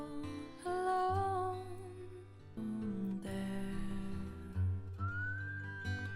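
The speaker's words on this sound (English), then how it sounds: "I don't think they've ever whistled on the track." Melodic whistling on an indie rock album track, sustained wavering whistled notes over a steady bass and guitar backing, rising and gliding between pitches.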